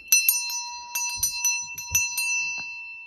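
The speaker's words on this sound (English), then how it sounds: "Listen to this bell." A small vintage bell rings out in a series of bright, shimmering strikes with long ringing overtones, irregularly spaced over about three seconds and heard clearly on its own.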